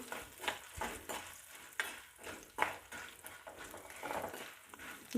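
Chana dal, urad dal, coriander seeds and cumin fry in oil, a soft crackling sizzle under rhythmic stirring and scraping strokes in the pan, close and fairly quiet.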